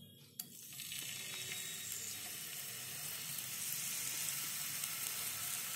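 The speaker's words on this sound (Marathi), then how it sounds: "सुरणाला आपण शॅलो फ्राय करून घेणार आहोत." Pieces of suran, elephant foot yam, shallow fry in hot oil with a steady, close, crackling sizzle that holds throughout without any talking.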